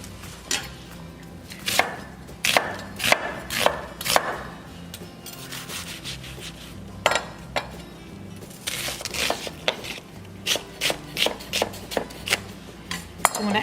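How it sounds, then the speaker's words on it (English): Onions being chopped with a knife on a wooden cutting board, sharp repeated thuds in irregular bursts followed by a quicker rhythmic run of cuts, close and crisp. "To start, I'm going to chop some onions."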